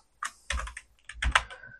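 Code typed on a computer keyboard: a few close, crisp keystrokes in two quick clusters separated by a short pause.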